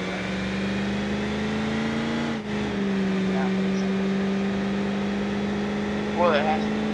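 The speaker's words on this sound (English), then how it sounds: "I'm pretty sure I turned this into a diesel 6-liter V8." A supercharged diesel 6-liter V8 car engine in BeamNG.Drive holds a steady low drone that dips briefly and then carries on, with a voice talking over it.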